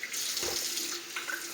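Water runs from a kitchen sink tap in a home in Ireland, a close, continuous splashing stream that stays steady throughout.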